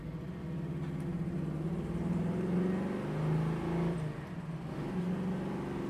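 A 1969 Chevrolet Nova Yenko-style car is heard from inside while driving, a steady low engine drone and road rumble that swells slightly with throttle, without talk.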